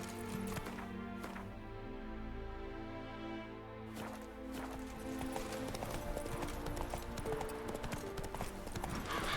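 Horse hooves clip-clop at a steady gallop in The Witcher 3: Wild Hunt, a rapid, continuous rhythm over game ambience and music, with no talk.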